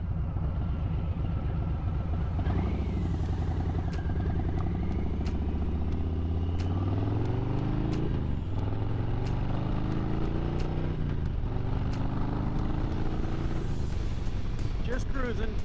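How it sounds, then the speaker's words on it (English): A motorcycle engine hums steadily at about quarter throttle while cruising along a road, its low drone rising and falling slightly with wind rumble, and a rider's voice comes through now and then. "just cruising, cracking the throttle like quarter way"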